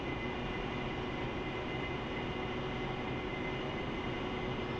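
AV-8B Harrier jet engine in the DCS flight simulator, spooling up during a hover, a loud continuous roaring whine with steady tonal layers and no breaks or voices.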